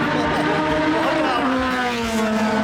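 A loud drag racing car engine roars steadily with a rising, droning pitch, racing close by at a Japanese drag race and filling the whole stretch without a break.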